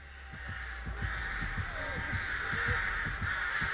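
Crows caw over and over in Dead by Daylight, harsh calls repeating against a steady throbbing, heartbeat-like pulse and a constant ambient hum, close and fairly loud.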